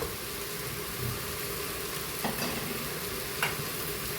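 Masala and browned onions frying in a pan for Kerala-style chicken chukka, a dense continuous sizzle with a couple of brief scraping stirs of the spoon.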